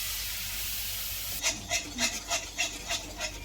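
Jaggery stirred and sautéed in ghee in a pan, starting with a steady hiss of sizzling, then a spoon scraping in rhythmic strokes, about seven close, even scrapes over the simmering.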